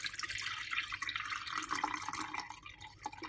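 Water being poured into a Giggles baby bottle sterilizer, a steady close splashing and dripping flow that carries on without a break, moderately quiet, with no one talking.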